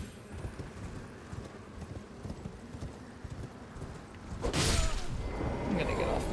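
A horse's hooves clip-clop steadily in Elden Ring, a rhythmic trot under game ambience, before a louder burst of sound near the end.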